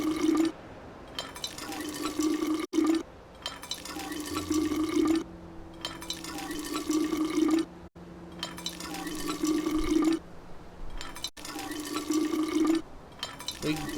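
In We Happy Few, water fills in repeated pours. Steady watery bursts break off at short gaps over a faint hum, with background talk.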